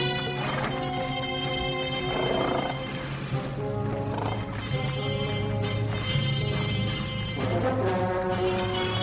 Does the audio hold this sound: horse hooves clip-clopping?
yes